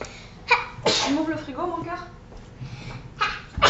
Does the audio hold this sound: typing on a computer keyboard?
no